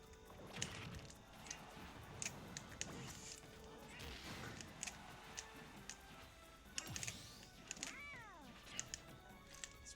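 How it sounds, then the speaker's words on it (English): A cat in the background meows faintly a few times during a Smash stream, under a steady bed of keyboard typing and clicking plus game sounds. "So my cat is getting distracted in the background"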